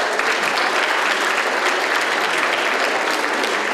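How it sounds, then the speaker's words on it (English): A room of diners at a community unity dinner claps in a thick, even wash of applause that holds at a constant level throughout, with no talk on top. "how about a round of applause?"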